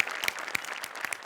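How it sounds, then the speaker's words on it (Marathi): Studio audience on a Marathi comedy sketch show breaking into steady, dense applause, loud and sustained with a few sharper claps standing out, no talking over it. "जोरदार टाळ्या"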